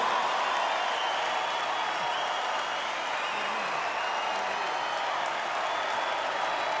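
A large audience at the Viña del Mar Festival applauds a performance, producing a dense, sustained wash of clapping that holds steady throughout.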